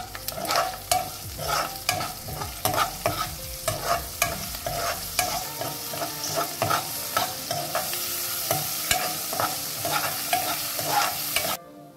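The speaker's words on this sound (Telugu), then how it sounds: "దీంట్లోకి మనం పోపు దినుసులన్నీ వేసుకొని కరివేపాకు కూడా వేసుకుందాం." Tempering spices and curry leaves fry in hot oil for a Telugu bean curry, crackling and sizzling as a spoon stirs and scrapes the pan in repeated strokes, with no talking.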